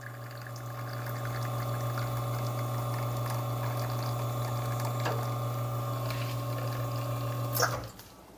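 Lelit Bianca espresso machine running its pump through a shot, a steady loud vibrating drone with a constant low hum that holds throughout, then cuts off near the end with a brief clunk.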